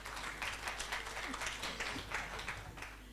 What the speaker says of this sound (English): applause our panelists for taking time to sit.